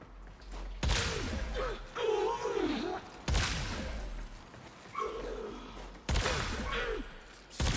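Three loud single shots from the Lex pistol with its Incarnon form in Warframe ring out a few seconds apart, each with a long ringing tail, with no one talking.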